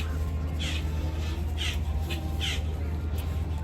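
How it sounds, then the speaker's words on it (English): Several harsh bird calls, likely crows, ring out in short bursts about once a second over a steady low hum and outdoor crowd murmur at a theme park. "The birds here are pretty aggressive."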